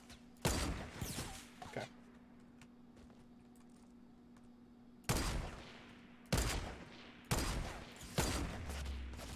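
Gunfire in the video game Fortnite, shooting from the west: a burst of rapid shots early on, then several loud volleys later, with a short spoken word between.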